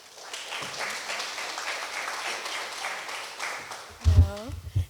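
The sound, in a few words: audience applause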